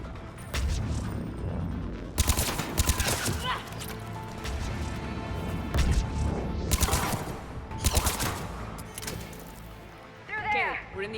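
Video game gunfire crackles in scattered bursts and sharp impacts amid a busy mix of shouting voices and background game sounds, loud and close throughout.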